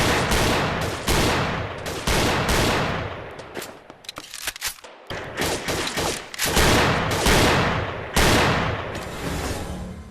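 Rapid, loud bursts of gunfire ring out in the GUNCLUB VR shooting game as targets, gangster thugs and terrorists are shot, with volleys and brief pauses between them and no talking.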